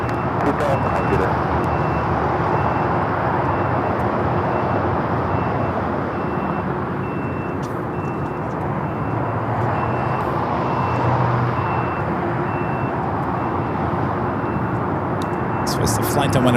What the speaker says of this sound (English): This is United Airlines Flight 2000 taking off to Denver on the A321neo